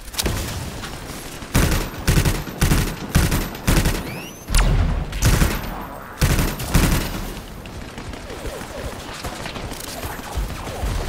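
Gunfire blowing up turrets in the video game Anthem: loud, rapid bursts of shots and booming impacts in a rhythmic barrage, easing into a denser, lower-level rattle of fire toward the end.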